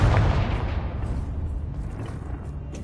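A Confringo blasting spell goes off in Hogwarts Legacy, a loud booming explosion that rumbles and slowly fades over a few seconds.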